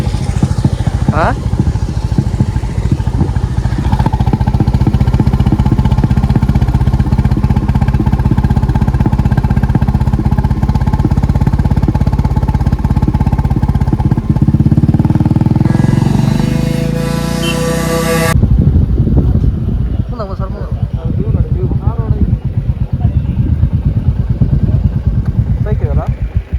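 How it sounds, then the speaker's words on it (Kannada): A motorcycle engine drones steadily while riding through the Agumbe ghat in rainy weather, with a rising whine partway through and voices talking over it. "ಬೈಕ್ ಇದೆಯಲ್ಲ ಅದ್ರ ಮೇಲಿಂದ ಬಂದಿದ್ದೀಗ ನಾವು"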